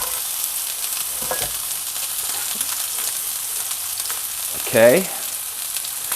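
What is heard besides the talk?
onions frying in a pan for caramelizing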